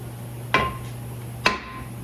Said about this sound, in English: This one's going to need a few hammer blows.